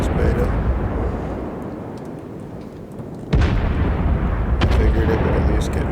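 Naval gunfire in the World of Warships video game: heavy booms break out at intervals over a continuous low rumble of battle noise.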